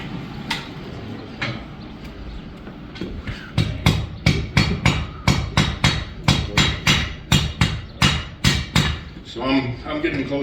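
Steel is hammered on an anvil to shape a Dutch oven lid lifter, with a long run of loud, close, evenly spaced ringing blows. Someone talks over the first part, before the strikes settle into a steady rhythm.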